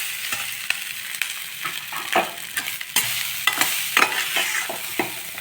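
Masala powder for lemon rice sautéed in a pan: a steady sizzle under repeated scraping and stirring strokes, close and fairly loud, with no talking.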